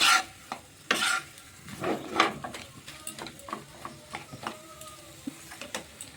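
Spice masala with salt is stirred and sautéed in a pan, with irregular close scraping and rasping strokes over a faint sizzle.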